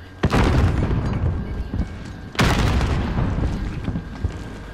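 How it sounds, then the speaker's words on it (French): Two heavy grenade blasts in Call of Duty: Modern Warfare, each a loud sudden boom with a long rumbling decay, spaced about two seconds apart. "Grenade lancée."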